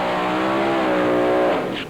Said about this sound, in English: Nice smoky burnout.